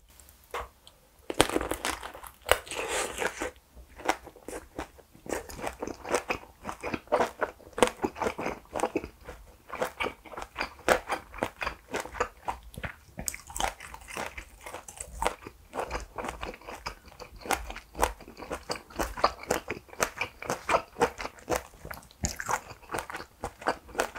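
Spicy mini kielbasa sausages are bitten and chewed close to the mic, giving a steady run of crunchy bites and wet, squishy mastication for the whole stretch, with no talking.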